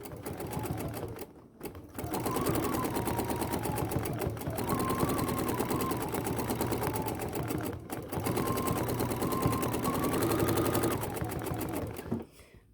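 A BERNINA sewing machine with a stitch regulator stitches small cross marks in steady, rapid runs of needle clatter, stopping briefly twice between bursts, close and alone.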